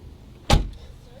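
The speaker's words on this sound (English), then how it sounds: "So if I were to close this door," The passenger door of a 2016 Jeep Wrangler JK shuts with a single short, solid thud heard close by, followed by quiet.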